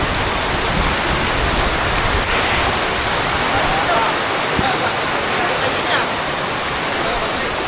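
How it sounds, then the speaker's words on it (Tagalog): Heavy rain pours steadily outdoors at a goat-fetching trip, a loud, dense hiss of rainfall that fills the whole clip without letup, with faint voices now and then underneath. "relax lang kayo guys kasi ang lakas ng ulan guys"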